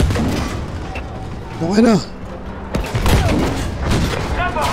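Battlefield V gunfire pops and booms in bursts of shots with distant artillery-like thumps, loud and close, while someone speaks briefly over the shooting.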